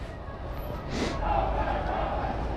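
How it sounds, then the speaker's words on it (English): An outdoor protest crowd, a distant, steady roar of many voices that swells slightly and carries on without a break. "There's some crowd and they're moving this way."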